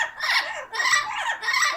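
A pet parrot lets out three harsh, loud squawks in quick succession, close by and indoors.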